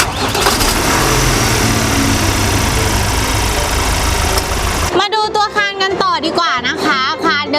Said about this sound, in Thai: เดี๋ยวเราไปฟังเสียงเครื่องยนต์กันเลย